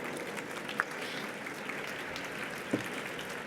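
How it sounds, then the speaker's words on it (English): Audience applause for a speaker at a tech and data talk, a steady wash of clapping at moderate distance with a couple of sharper claps standing out, no voices over it. "Warm round of applause for Elena."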